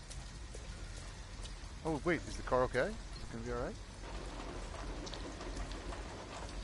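Constant rainfall patters in the video game Detroit: Become Human, a soft continuous hiss that sits under a short burst of speaking voices partway through.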